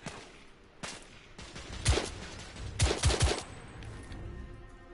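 Gunfire from the shooter game The Order 1886: a few distinct, moderately loud shots, including a quick close pair, over a low background with no talk.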